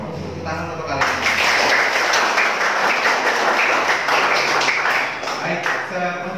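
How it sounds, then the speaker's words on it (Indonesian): Students applauding in a vocational school classroom, a burst of dense clapping starting after a second and lasting about four seconds before fading, with voices around it. "Tepuk tangan untuk kalian."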